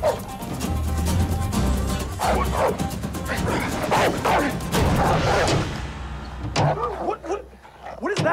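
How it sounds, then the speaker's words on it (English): A dog barks outdoors in repeated sharp yips and whimpers at a farm setting, mixed with clattering and people talking, the barking fairly close and insistent before fading near the end. "What is that? Dog. I know it's a dog."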